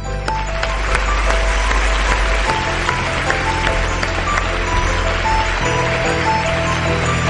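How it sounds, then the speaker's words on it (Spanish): A television studio audience applauds a TV actor being introduced, with loud, sustained, dense clapping that runs unbroken from start to finish over a low, steady hum. "Otro aplauso para el divertido astronauta y para el cura Pedro Muñoz."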